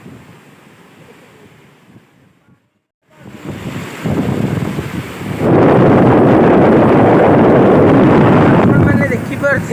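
Fierce floodwater surges past the Mundali bridge in a loud, continuous roar that builds to a full rush, with wind buffeting the microphone throughout.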